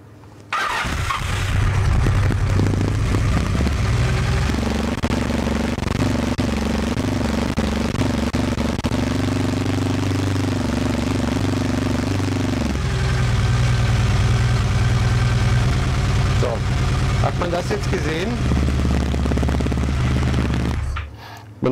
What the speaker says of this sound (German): Choke ist gezogen, dann starten wir mal an.